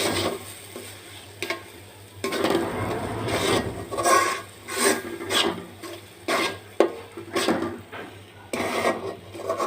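Stirring of a mashed sweet potato and greens mixture with black cumin powder in a wok, heard as repeated scraping, rasping strokes near and fairly loud, in irregular bursts with no talk.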